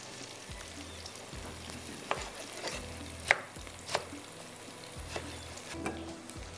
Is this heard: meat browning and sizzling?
yes